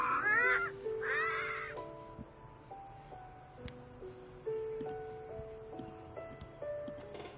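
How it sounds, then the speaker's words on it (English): Parrots in a parrot house squawk loudly at first, then shrill whistles and calls continue at intervals over a faint background murmur. "here we are at the parrot house. Gosh, they're very noisy."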